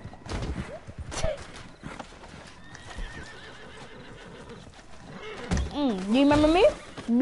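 Horse hooves clip-clop amid game sounds, with a horse whinnying loudly near the end while someone talks over it.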